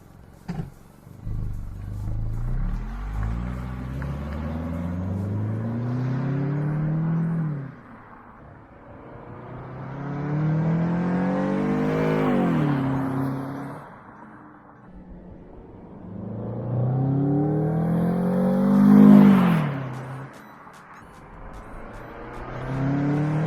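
A Toyota Camry fitted with an HPS cold air intake drives past several times outdoors, each pass swelling from distant to near as the engine revs up and then fades, with quieter gaps between runs.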